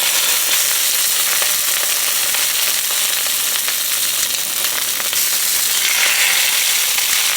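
Salmon fillets sizzle loudly and steadily in a smoking-hot pan of olive oil, a dense continuous crackling fry that stays close and constant throughout.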